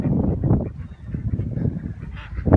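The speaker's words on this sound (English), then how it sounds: "Our ducks." Farm ducks calling in a yard, a loose chorus of nasal honking quacks overlapping at moderate distance, rising and falling irregularly throughout.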